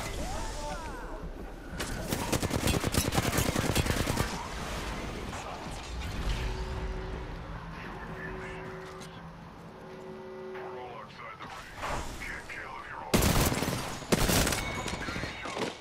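Rapid gunfire bursts in Apex Legends, loud close volleys at the start and again near the end, with quieter stretches between and a player talking over the action.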